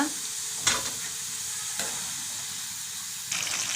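A snack mixture fries in hot oil, giving a steady soft sizzle and hiss with a few brief stirring clatters, close and fairly quiet with no talk.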